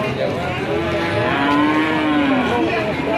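A loud, close Belgian Blue calf, about four months old, moos in a long, drawn-out low bellow over the busy background hum of a cattle market.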